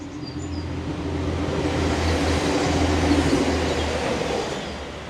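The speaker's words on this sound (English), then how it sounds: "Here comes a train." A train rumbles past steadily, its low roar swelling toward the middle and easing off as it moves away.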